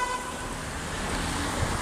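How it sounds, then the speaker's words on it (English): Car horns sound on a city street near a pedestrian, a steady toot over a wash of passing traffic noise, fairly close and loud. "People honking at me, I don't know why."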